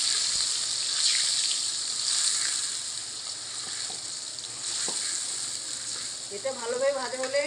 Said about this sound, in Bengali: তেলটা গরম হয়ে গেছে, পেঁয়াজ আদাটা আমি তেলের মধ্যে দিয়ে দেবো